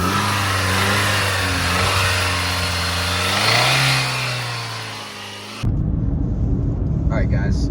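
Car engine with a knock, treated with Sea Foam, held at a sustained rev that climbs briefly, then cut off abruptly and replaced by rougher outdoor noise with a person talking.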